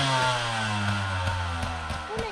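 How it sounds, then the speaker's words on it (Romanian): A hard-enduro motorcycle engine runs roughly with a steady low drone, then sputters with several uneven knocks and pops as it falters, close and moderately loud. "Îți moare motorul."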